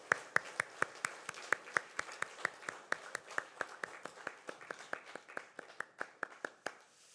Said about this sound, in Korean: 우리 하나님께 영광의 박수, 격려의 박수 하겠습니다.